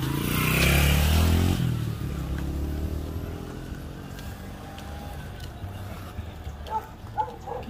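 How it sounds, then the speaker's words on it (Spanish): A motorcycle engine roars up close and loud, then fades into a steady low drone with faint background noise. "Viene moto, viene moto."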